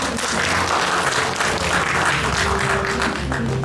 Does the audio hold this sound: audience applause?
yes